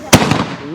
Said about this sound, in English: we are going to put on a fireworks show